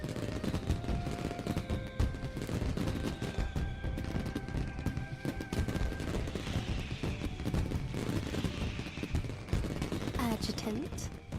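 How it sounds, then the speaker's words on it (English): Dense crackling bursts of New Year fireworks, including Gatling-style and magic burst types, in the video game Snowbreak, a continuous rapid popping barrage with a voice talking over it throughout. "They're lighting all my fireworks without me!"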